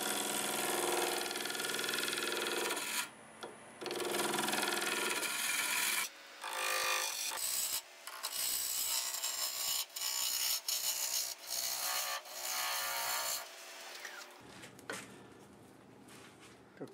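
Negative rake scraper working the spinning end-grain live-edge pear wood bowl on a lathe, a steady broadband rasping scrape that keeps breaking off into short pauses with the lathe hum beneath.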